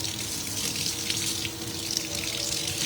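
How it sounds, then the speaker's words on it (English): A furniture paint brush is rinsed under a running tap, giving a steady, soft hiss of flowing water with faint splashes and no voices. "Here's one of our furniture painting brushes we've used today. So I'm gonna rinse this clear."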